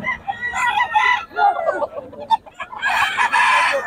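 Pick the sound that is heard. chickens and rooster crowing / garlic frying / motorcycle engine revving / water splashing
chickens and rooster crowing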